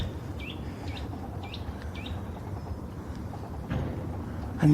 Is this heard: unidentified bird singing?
yes